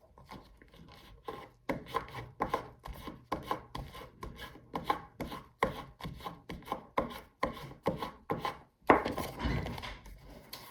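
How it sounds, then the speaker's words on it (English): Paper being burnished by hand during bookbinding finishing, a series of dry rubbing strokes in short bursts, close and fairly loud, with brief pauses between them. "I'm going to burnish that in"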